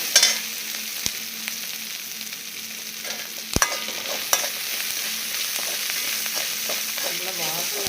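Onions being sautéed and stirred in a pan for a brinjal and raw mango sambar, with a soft steady sizzle and occasional sharp clinks of a spoon against the pan.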